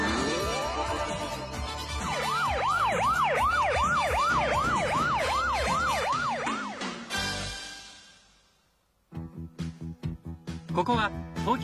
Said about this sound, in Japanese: 火事の時にサイレンを鳴らして駆けつけてくれる消防自動車